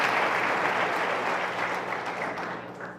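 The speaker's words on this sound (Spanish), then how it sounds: "De palmas al Señor, hermano." A church congregation claps together during a Spanish-language sermon, a dense, sustained burst of applause filling the room at moderate volume, with faint voices mixed in.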